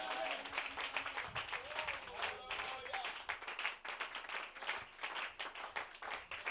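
Congregation at a French-speaking church service clapping and cheering, a steady rattle of many hands heard somewhat distant, with voices mixed in.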